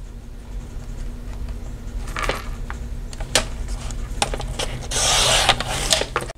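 Paper being cut for a Dollar Tree traveler's notebook insert: scattered taps and clicks over a low hum, then a short, louder rasping swish near the end, close by with no talking.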